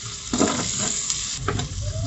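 Chicken adobo with pepper stirred in a hot pan, a close crackling sizzle with two quick scraping strokes of the spoon, loud and steady, no voices.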